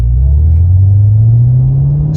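A 2022 Cadillac CT5-V Blackwing's engine gives a deep, steady rumble from close by. Its pitch climbs slowly as the car pulls, with no talking over it.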